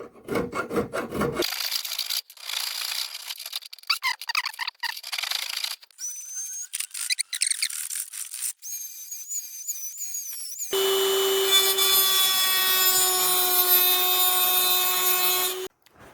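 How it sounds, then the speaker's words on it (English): A hand file rasps against a cast iron part of an 1880 electric floor lamp in repeated back-and-forth strokes, and a steadier, more tonal scraping takes over near the end. "I'm laying the file across both of them. I'm using this as a guide, but I'm putting pressure here."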